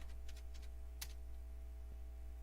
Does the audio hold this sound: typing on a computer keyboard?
yes